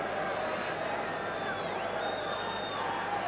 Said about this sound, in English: you can hear the applause around Loftus Road for that superb piece of trickery